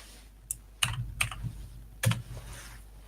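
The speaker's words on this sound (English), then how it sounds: "I better type something." Keys on a computer keyboard tapped in a few scattered clicks and short bursts, fairly close and distinct, with no voices over them.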